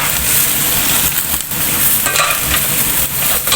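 Cabbage tossed into a pan of frying tofu and canned sardines, a loud dense sizzle filling the clip with intermittent stirring scrapes and spatula clatter, close up and without speech.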